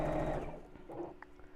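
Sewing machine running briefly as fabric is top stitched, a close mechanical whir that winds down within a second or two.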